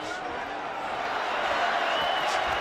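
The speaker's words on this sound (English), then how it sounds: "Crowd trying to lift Canelo back in forefront of the fight." Boxing crowd at a Canelo Alvarez versus Alfonso Gomez fight roars in a dense, sustained wash of cheering that swells slightly toward the end, with no clear individual voices standing out.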